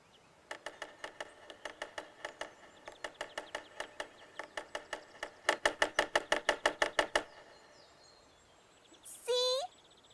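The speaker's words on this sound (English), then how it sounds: "It's a woodpecker." A cartoon woodpecker knocks on wood in rapid bursts of sharp, clear taps, several runs with short gaps, the last run louder, followed by a brief rising whistle-like effect.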